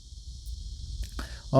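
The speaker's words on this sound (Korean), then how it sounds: "날씨가 화창합니다. 뭐 매미 소리도 들려요." Cicadas drone in a steady high buzz outdoors on a sunny day, continuing throughout, with a few brief voice sounds near the end.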